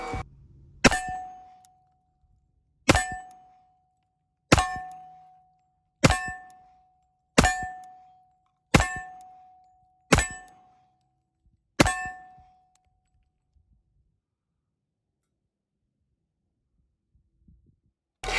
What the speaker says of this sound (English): I also grabbed my iPhone and recorded some shots with the camera focused on the front sight